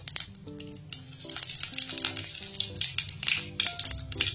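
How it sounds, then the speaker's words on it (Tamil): Mustard seeds splutter and crackle in hot sesame oil, tempering for a lemon pickle, giving soft irregular pops and sizzling at moderate volume with no one speaking. "எண்ணெய் நல்லா சூடாயிடுச்சுங்க. இப்போ இதுல கடுகு ஆட் பண்ணிடலாம். கடுகு பொரிஞ்சு வந்த உடனே"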